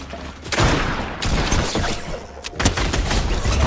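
Rapid automatic gunfire from a fast-firing weapon in the video game Fortnite, loud dense bursts that run almost nonstop with brief gaps and sharp cracks.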